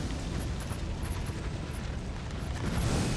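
A fire trap erupts in Elden Ring as a steady low roaring rumble of flames, with faint high crackles above it, swelling slightly louder toward the end.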